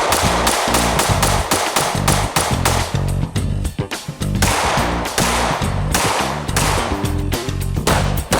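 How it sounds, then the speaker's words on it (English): Rapid 9mm Parabellum pistol shots crack out loud and close in quick succession, a dense string of sharp reports with short echoing tails and barely a pause between them. "9mm is really a lot of fun to shoot"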